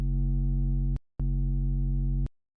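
A distorted synthesizer bass patch in a drum and bass style sounds as two sustained, buzzy, harmonic-rich notes, loud and dry, separated by a brief gap and ending in a clean cutoff.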